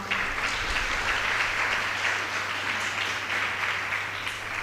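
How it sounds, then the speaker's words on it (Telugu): Audience applause at a Marian sodality gathering, a steady, dense burst of many hands clapping that holds at full strength for the whole stretch with no voices over it. "చప్పట్లు కొట్టుకుందాం మనం."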